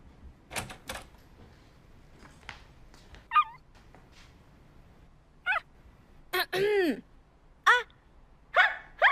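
A woman imitates a dog barking with short yelps and whimpery barks, scattered irregularly over several seconds, close and fairly loud.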